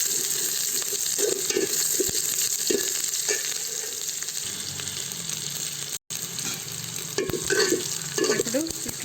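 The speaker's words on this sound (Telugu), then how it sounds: "బాగా వేయించుకోవాలి." Okra sizzling as it fries in a pan for a Rayalaseema tomato bajji, with steady broadband sizzle and occasional stirring scrapes, close and continuous with no talking.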